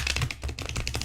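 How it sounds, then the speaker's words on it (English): Tarot cards being shuffled by hand: quick, crisp riffling and flicking bursts in a close, busy rhythm, repeated several times over a second, with no talking. "Let me shuffle a little bit more."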